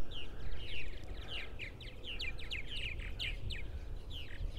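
Gull calling repeatedly near a house, a steady series of sharp chirping cries over a low, continuous background rumble.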